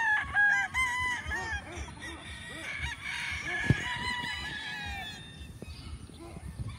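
Chickens, including straight comb roosters, call on a farm, with clucks and crowing over a busy background, plus a sharp honk-like cry near the middle; faint talk is mixed in.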